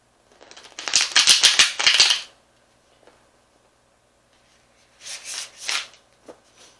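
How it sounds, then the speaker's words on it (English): Tarot cards are shuffled close by in two bursts of rapid riffling and flicking, the first longer and louder, separated by a quiet pause. "I'll just give a couple of shuffles"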